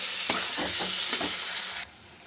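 Onions and potatoes fry loudly in a pan, a bright close sizzle with a few stirring scrapes, cutting off abruptly near the end to quiet.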